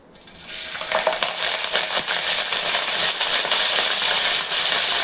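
Cumin seeds and curry leaves sizzle steadily in hot oil while prawn and ridge gourd curry is prepared, a loud, continuous frying crackle that swells quickly and holds dense to the end.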